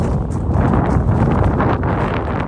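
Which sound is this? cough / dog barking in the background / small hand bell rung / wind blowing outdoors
wind blowing outdoors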